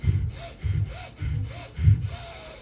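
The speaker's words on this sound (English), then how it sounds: "I want vigorous breathing." Four rhythmic rounds of vigorous breathing through the nose, each a forceful, airy rush about half a second apart, then a softer tail, heard close with no talking, during a group breathing exercise at a beauty event.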